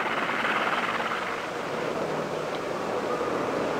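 A continuous, loud whooshing roar of a helicopter turboshaft engine, steady and unbroken from start to finish.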